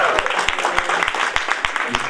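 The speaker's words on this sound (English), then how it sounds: "Give Chan a round of applause" Audience at a stand-up comedy show claps after an Asian comedy set, a mix of close, sharp individual claps over a broader wash of applause, with some voices underneath.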